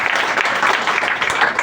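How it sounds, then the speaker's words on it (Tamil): Applause from a church congregation at a Sunday worship service, welcoming visiting missionaries with a steady, dense burst of clapping that fills the whole moment without a break. "ஒரு கைத்தட்டி வரவேற்கலாம்"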